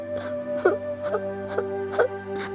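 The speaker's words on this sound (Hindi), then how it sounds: "उन लोगों को किसी औरत के रोने की आवाज आने लगी।" A woman's soft, wavering cries and whimpers come in several short sobbing bursts over a steady background hum, with no speech.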